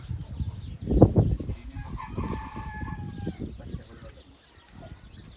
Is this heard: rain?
no